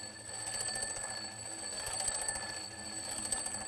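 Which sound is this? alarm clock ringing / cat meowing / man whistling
alarm clock ringing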